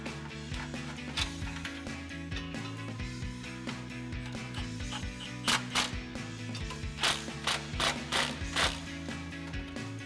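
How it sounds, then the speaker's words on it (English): Ratchet with a 15mm socket tightening bolts on the driver's side while a catalytic converter Y-pipe is fitted under a 2009-2013 Silverado 1500, heard as several bursts of quick clicking ratchet strokes in the second half over a steady background hum. "15mm socket, and tighten these down."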